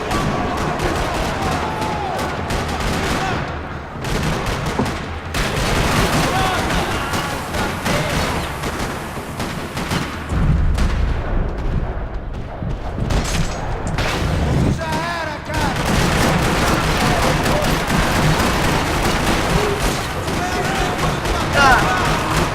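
Rapid bursts of gunfire in Max Payne 3 crackle and boom almost continuously, dense and loud, with talking mixed in underneath.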